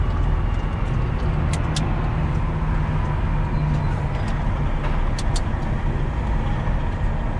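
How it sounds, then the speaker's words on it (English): Road traffic passing a parked semi truck, a continuous loud engine-and-tire rumble with a steady roar and occasional faint high squeaks and clicks. "That's quite a bit of traffic."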